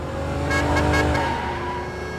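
A car engine roars steadily at close range, a loud, sustained drone that swells briefly midway as the vehicle pushes ahead.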